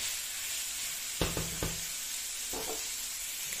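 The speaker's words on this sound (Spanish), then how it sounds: "Y rehogamos hasta que la carne esté." Beef sizzles steadily in a pan with onion, tomato and pepper, broken by a few sharp stirring scrapes near the start and again later, close and alone.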